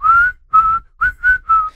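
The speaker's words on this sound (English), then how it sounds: "a lady comes in whistling that famous Kill Bill thing." A person whistles the famous Kill Bill tune as five clear, sustained notes in a short rhythmic phrase, close and alone with no other sound.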